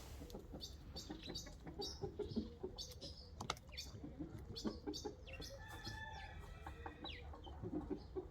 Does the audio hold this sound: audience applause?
no